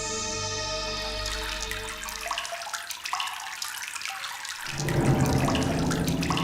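Water runs from a tap in a steady, rushing stream, close and fairly loud, shifting in tone partway through, with no talking.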